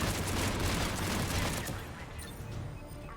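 Dense grenade explosions and rapid gunfire in a Mass Effect 3 firefight, a continuous loud barrage of blasts and shots that thins slightly after the first half, with no talking.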